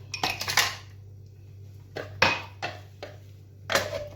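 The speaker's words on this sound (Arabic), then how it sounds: "مكعبات التلج" Ice cubes drop into a container for a doum palm and milk drink, making several sharp clattering knocks in small clusters, close and crisp with no voices.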